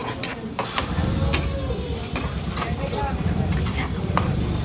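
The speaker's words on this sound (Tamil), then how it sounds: "எண்ணெய் ஊற்றக்கூடாது, வெறும் கடாயிலே போட்டு நல்லா வறுத்து எடுத்துக்கணும்" Peanuts dry roasting in a bare kadai with no oil, a steady close scraping and stirring rattle with light clinks of a spoon against the pan, continuous throughout with no talk.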